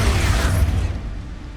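An explosion spell going off in Hogwarts Legacy, a loud broadband blast with a heavy low rumble that decays steadily over about a second and a half.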